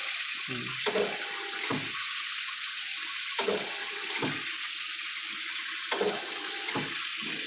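Water runs steadily from a shower, hissing continuously, with a few brief splashes or interruptions as something moves through the stream.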